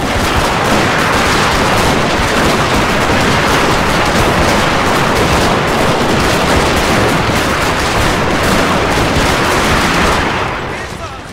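Four Gatling guns fire nonstop in the video game Total War: Shogun 2, a dense, loud, unbroken rattle of rapid shots that fades near the end.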